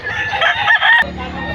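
Chicken at a Bocaue, Bulacan market, a loud rooster call with harmonic crowing running about a second, ending abruptly into low background murmur.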